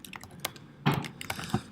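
Keys on a Mac keyboard pressed for a shortcut, a few quiet distinct clicks and taps close by, sparse and irregular, with no speech.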